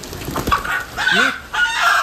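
An Aseel rooster clucks close to the microphone and then gives short, loud crowing calls in quick succession, with no voices.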